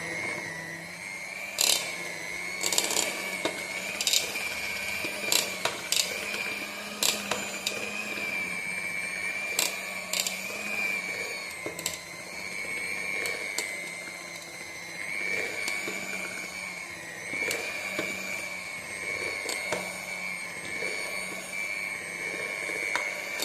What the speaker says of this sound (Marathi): दर 5 मिनिटांनी बीटर बंद करायचा, म्हणजे त्याच्या मोटरवर लोड येत नाही आणि मोटर गरम होत नाही.